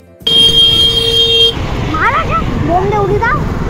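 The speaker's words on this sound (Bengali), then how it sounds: "কি হর্ন মারছে" A single long car horn blares for over a second on a road in Medinipur, then traffic noise continues with a voice talking over the road rumble.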